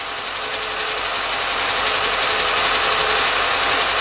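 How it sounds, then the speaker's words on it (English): A Mk3 Ford Cortina engine runs steadily nearby, a continuous rumbling drone that rises slightly in intensity over a few seconds, with no speech. "As I'm varying the speed now, the engine's running."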